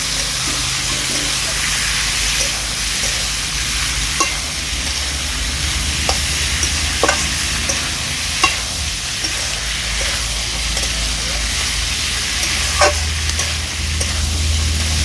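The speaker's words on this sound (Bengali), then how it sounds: "এবার মশলার সাথে ছোলাটাকে বেশ ভালো করে আমি মিশিয়ে নেবো" Boiled chickpeas being stirred into spices in a pan for chana masala, with a steady low sizzle and occasional scraping clicks of a spoon against the pan.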